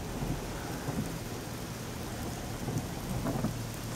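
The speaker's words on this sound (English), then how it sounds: "It's raining." Rain falls steadily in Grayson Highlands State Park in Virginia, a soft continuous hiss with scattered drops and low rumbling underneath, no voices.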